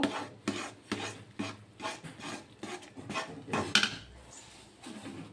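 Rice flour dough is stirred in a pan over a gas stove on low flame, with a spoon scraping and rasping against the pan in repeated close strokes.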